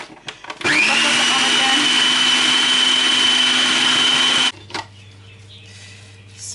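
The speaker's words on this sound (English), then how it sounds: "let me now finish the process of crushing it all out with the food processor" A food processor blends Jamaican jerk seasoning ingredients in one loud, steady whirring run of about four seconds; the motor cuts off abruptly and a quieter low hum follows.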